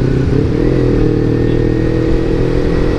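A motorcycle engine idles loudly and steadily, its racing exhaust giving a deep, rumbling drone that holds throughout with slight rises in revs.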